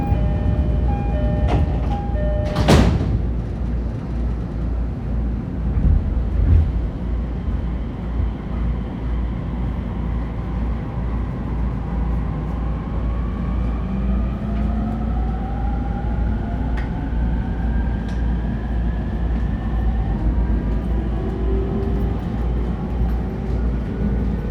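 An E231-1000 series refurbished commuter train on the Shonan-Shinjuku Line pulls away from a station, with a steady low rumble of rolling stock and a slowly rising motor whine building as it accelerates, close and continuous, with no talk.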